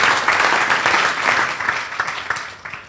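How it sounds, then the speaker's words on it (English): Audience applause for law enforcement panelists at a Tiger Bay Club of Manatee meeting: a full burst of clapping that thins into scattered individual claps and fades out toward the end. "Please give all of our panelists a round of applause."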